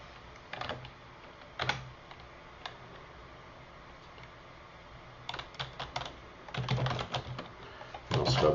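Go code being typed on a computer keyboard: scattered bursts of quick key clicks separated by pauses, with a denser flurry toward the end, close and alone without talk.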